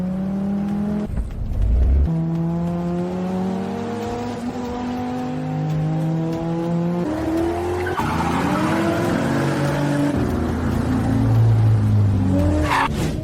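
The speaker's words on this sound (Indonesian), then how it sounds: "Mencoba menyalip dengan drift di tikungan ini" A race car drifts through a corner with sustained tire squeal and skidding over a steady, revving engine whine that rises and falls in pitch, loud and continuous with no speech.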